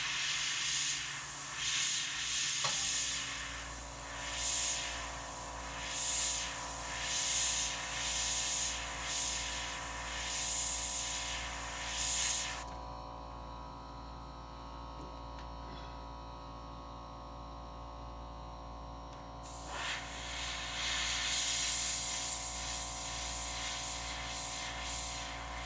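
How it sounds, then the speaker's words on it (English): An airbrush sprays paint thinned with water, a steady loud hiss over a low mains hum that drops to a quieter, duller tone for several seconds midway before the full spray resumes. "if you thin the paint too much with water, you'll get a grainy look to your paint as it sprays"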